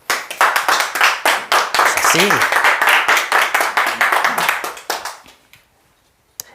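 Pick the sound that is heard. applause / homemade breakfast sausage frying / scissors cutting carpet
applause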